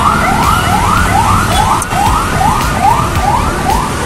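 Ambulance siren wailing loud and close in a repeating rising sweep, about ten cycles in a row, with traffic rumble underneath and no talking.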